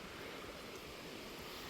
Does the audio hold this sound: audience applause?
no